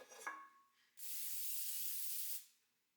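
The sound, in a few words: cooking spray on baking dish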